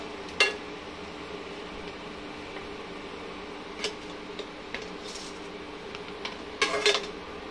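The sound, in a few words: fried boondi being taken out into a metal strainer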